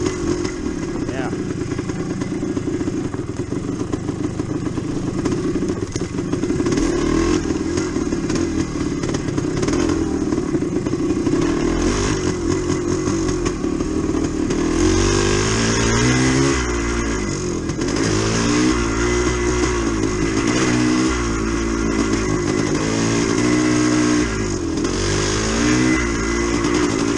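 A Yamaha DT360 motorcycle lugs along in second gear on an off-road woodland trail, its engine making a loud, close, low throbbing drone with rising and falling pitch, and a rider talks briefly over it.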